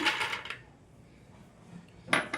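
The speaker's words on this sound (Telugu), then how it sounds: "ఇందులోనే పలుకులండి, శనగ పలుకులు, పల్లీలు ఇవైతే వేసుకోవాలి." Roasted chana dal and peanuts poured into a pan, giving a brief burst of dry rattling clatter at the start, a quiet gap, then a second short scatter of hard bits hitting metal.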